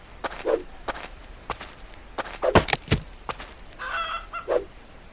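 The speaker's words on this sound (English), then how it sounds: "Come here, chicken." Chicken sounds in the survival video game Rust: several short squawks and clucks scattered among light footsteps and sharp thuds, fairly close, with no talk.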